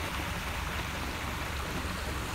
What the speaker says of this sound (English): the manhole cover overflowing on the corner of Seminole Boulevard and Mellonville